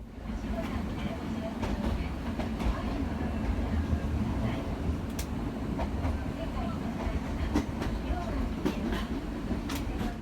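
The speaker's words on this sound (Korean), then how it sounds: "지금 이 열차는 교토 아라시야마의 노면 전차인 란덴입니다" The Randen streetcar in Arashiyama, Kyoto, rumbles past steadily, with a continuous low rolling drone and scattered clicks of wheels on rails throughout.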